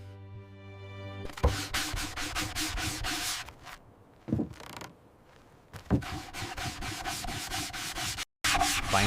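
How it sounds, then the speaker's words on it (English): Sandpaper rubbed along a wooden aircraft wing in long repeated strokes, close and fairly loud, broken by short pauses, with a few creaks and scratches between passes. "We must sand this down perfectly to ensure the airflow is correct."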